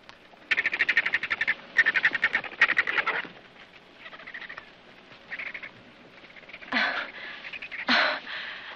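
A whiskey jack (gray jay) calls in loud, rapid bursts of harsh, rattling notes, repeated several times, followed by two sharper, brighter cries near the end. The calls may be a human voice imitating the bird.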